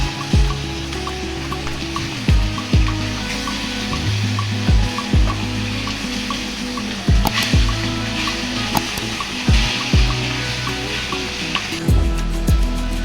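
Sharpunti fish frying in soybean oil in a pan, giving a steady close sizzle with recurring sharp spatters and pops throughout, no voices.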